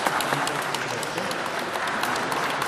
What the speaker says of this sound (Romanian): aplauze pentru semnătură